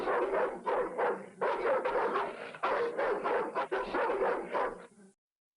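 Cartoon hounds from a Batman and Robin game bark, yip and whimper in rapid overlapping bursts, close and loud for about five seconds before cutting to silence.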